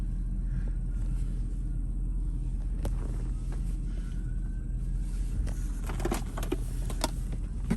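A 2006 Hummer H2 SUT sunroof motor whirs faintly as the panel opens, riding over a steady low cabin rumble with a few light clicks near the end.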